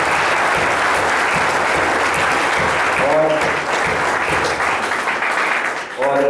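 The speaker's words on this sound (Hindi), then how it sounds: "एक बार जोरदार तालियां" An audience at a talk show gives a loud, sustained round of applause, which stays dense and even before tapering off near the end.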